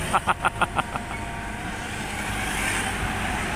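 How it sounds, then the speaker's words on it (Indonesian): A heavily loaded Fuso coffee truck rumbles past on the Pantura highway at night, a steady low engine roar that swells slightly as it nears, preceded by a quick series of five sharp beeps or knocks. "truk kopi ini yang muatannya gede ini, Fuso."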